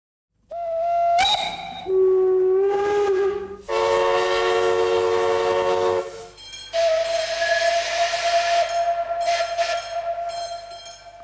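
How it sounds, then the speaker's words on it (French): A steam locomotive on a French railway sounds its whistle in several loud, close blasts of varying pitch, interspersed with strong bursts of hissing steam, ending in one long sustained whistle note. "Le sifflet produit un son que l'on entend de loin pour attirer l'attention ou pour donner des signaux précis."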